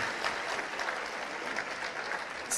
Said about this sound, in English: Another round of applause for all of our students.